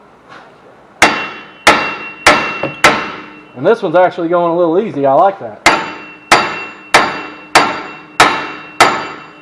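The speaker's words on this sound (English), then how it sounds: "So you find the biggest hammer you own." A heavy hammer strikes a rusted front axle hub on a Ford Taurus in loud, sharp metallic blows at a steady rhythm, pausing briefly while someone talks, then resuming with more evenly spaced hits.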